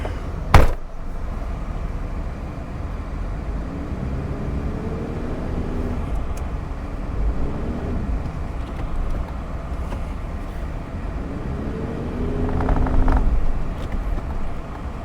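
A four-wheel drive vehicle crawls in low second gear with the centre diff locked over rough outback ground near Wolfe Creek meteorite crater, its engine a steady low rumble that swells and labours near the end, with wind buffeting the microphone.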